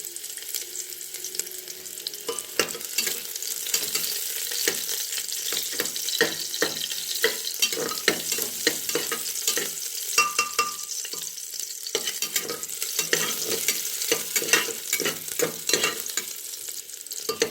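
Onions sizzle steadily in a hot pan while a utensil scrapes and stirs in frequent, irregular strokes, close and continuous.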